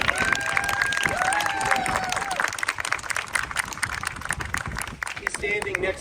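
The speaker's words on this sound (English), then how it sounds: "Brad, let's give Brad a round of applause." An outdoor audience at a ground breaking ceremony claps in steady, moderately loud applause that carries through the whole stretch, mixed with some crowd noise.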